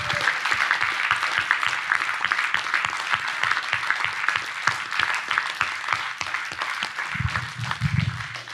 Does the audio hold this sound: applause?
yes